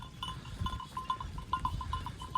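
Sheep bleat repeatedly outdoors on a hilltop, short nasal calls mixed with faint bell clinks over a low rumble of wind or movement.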